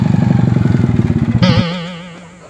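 A motorcycle engine pulses loudly and nearby with a rapid, rough rhythm, then shifts pitch as it races past and fades away.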